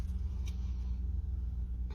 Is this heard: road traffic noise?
yes